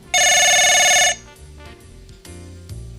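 A telephone bell rings loudly in a steady electronic trill for about a second in an indoor domestic scene, then stops, leaving low room murmur and faint background sounds.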